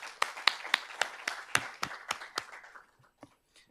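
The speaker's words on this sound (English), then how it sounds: "A big round of applause for all of you for being here and sharing your insights." Applause from an audience thanking guests at an IIT Roorkee research conclave, a run of distinct claps near and loud that thins out and fades toward the end, with no voices over it.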